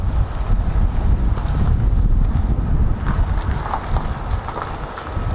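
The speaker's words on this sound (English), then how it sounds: "it's a bit windy" Strong wind blows outdoors at RAF Lakenheath, a US Air Force fighter base, loud gusty buffeting against the microphone with a deep rumbling roar that rises and falls, with no speech.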